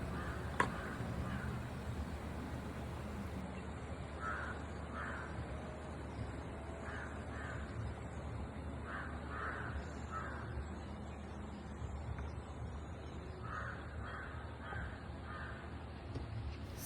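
Crows cawing in short repeated bursts at a resort in Vythiri, Wayanad, Kerala, with other birds calling, heard at moderate distance over a steady outdoor background hum.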